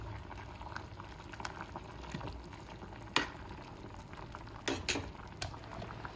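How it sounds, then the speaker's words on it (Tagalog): Pechay boiling in a pot on a home stove gives a steady low bubbling and simmering hiss, with a few sharp clinks and taps of utensils near the end. "Isang kulo lang to, tapos okay na."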